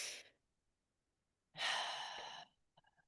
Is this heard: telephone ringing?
no